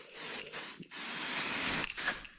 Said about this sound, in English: Don't want to spray directly the paint.